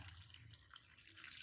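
Dried fish being rinsed in warm water in a vessel, with steady running and splashing water that stays soft and continuous throughout, heard without any talk.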